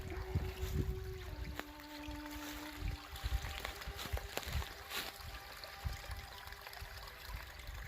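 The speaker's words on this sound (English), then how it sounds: "It's only a tiny waterfall." A tiny waterfall feeds a water channel on a permaculture property in winter, a faint, steady trickling and splashing heard from a distance in an outdoor setting.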